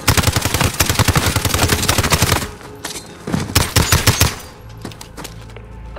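Call of Duty: Modern Warfare (2019) gunfire: a long, loud machine-gun burst of rapid, evenly spaced shots, then shorter sputtering bursts and scattered single shots that trail off toward the end.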